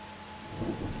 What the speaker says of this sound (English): as you can see, it did start raining